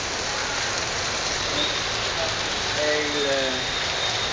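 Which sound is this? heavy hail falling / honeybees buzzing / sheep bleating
heavy hail falling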